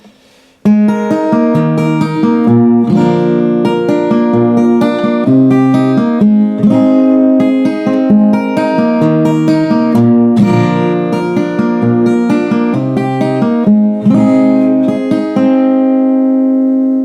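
Acoustic guitar strums through a chord progression, loud and close, with ringing chords changing every beat or two for the whole stretch.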